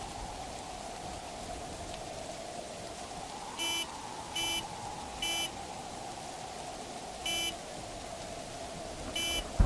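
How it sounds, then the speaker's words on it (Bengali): A vehicle horn beeps five times in short, evenly spaced electronic blasts, distant and moderately loud, over a steady wash of heavy rain during a stormy night. "মনে হলো গাড়ির হর্ন।"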